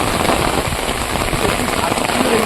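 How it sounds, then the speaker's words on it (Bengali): Steady rain falls in the Sundarbans mangrove forest, a dense continuous patter of drops on leaves and surfaces, loud and close throughout with no break. "বৃষ্টি হচ্ছে।"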